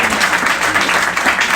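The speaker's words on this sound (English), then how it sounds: "Please, a round of applause for Steve Mackley." Loud, dense applause fills a room at a Frank Sinatra luncheon in Patsy's Italian Restaurant, a continuous wash of many hands clapping for Steve Mackley throughout.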